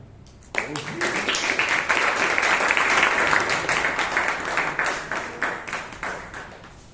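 Audience applause greets a speaker at a Bangalore Toastmasters meeting, bursting in suddenly, holding as a loud, dense roomful of clapping, then thinning into scattered claps toward the end.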